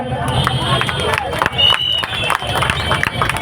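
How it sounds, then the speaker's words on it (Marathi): A festival crowd at a Dahi Handi celebration claps for a Govinda squad in Chembur, with scattered applause and cheering mixed into busy hubbub and an announcer's voice. "सर्वांनी टाळ्या वाजवायचे आहेत"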